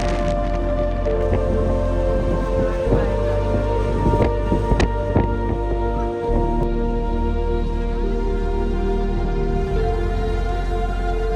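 Steady rain hisses with a constant roar of cyclone wind on a remote reef, a few sharper gusts and patters breaking through the dense wash of noise.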